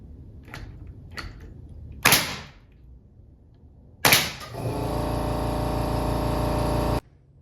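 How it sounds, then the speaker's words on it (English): A nail gun drives nails into a wooden spacer during home renovation, with light taps and then two sharp close bangs, the second followed by a steady mechanical hum that cuts off abruptly. "Might as well shoot a few nails in."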